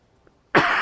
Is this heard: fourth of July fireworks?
no